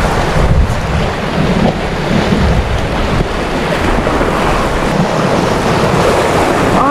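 Strong wind buffets the microphone on a fishing boat at sea off an uninhabited island, with waves and water rushing steadily underneath and no let-up across the whole stretch.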